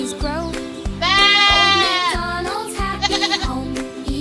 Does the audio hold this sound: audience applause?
no